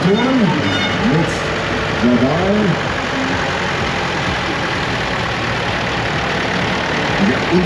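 Tractor engines idle with a steady low rumble during a village procession marking 900 years of Dahlenwarsleben, with a voice speaking over the engines near the start.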